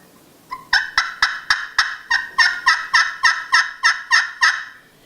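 Aluminum turkey call worked by hand, imitating a turkey: a rapid series of about fourteen sharp, clucking yelps in steady rhythm, loud and close, with no talking over it.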